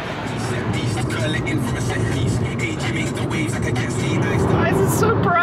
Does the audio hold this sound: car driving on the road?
yes